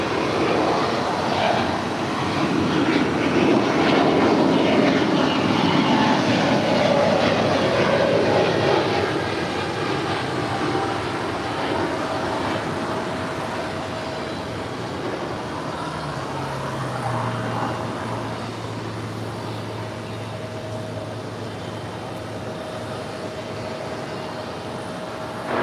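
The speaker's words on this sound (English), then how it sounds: "That is United Airlines Flight 2434 coming in from Newark in the 757-200." A United Airlines Boeing 757-200 arrives at LAX from Newark, its jet engines making a loud, sustained roar up close that slowly eases into a steady, lower whine.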